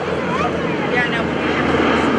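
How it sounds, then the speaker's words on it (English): North American T-6 Texan airplanes pass at an airshow at Greenwood Lake, a loud sustained propeller drone with a slight rising and falling pitch as they go by, and voices can be heard under it. "Here they come from the right."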